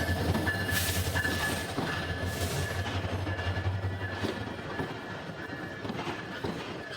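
The Lalmoni Express runs between Santahar Junction and Dhaka's Kamalapur, giving a continuous loud rumble with rhythmic wheel clatter and a faint metallic whine throughout.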